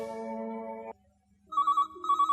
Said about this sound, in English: Just then, the telephone rang.